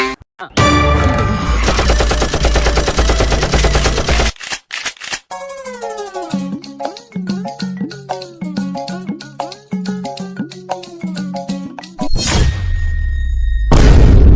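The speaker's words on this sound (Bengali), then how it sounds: "এখানে গুলি চলতেছে" Staged gunfire sound effect in a Bengali comedy skit about a school protest: loud, dense bursts of shots and booms at the start and end, with a stretch of music-like tonal sound in between.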